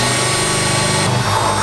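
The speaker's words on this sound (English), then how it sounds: "we'll use our pilot hole we drilled to continue drilling our hole out" A power drill runs loudly and steadily, boring through a Ram 2500 truck bed and bed liner at close range, its pitch shifting slightly as it bites in.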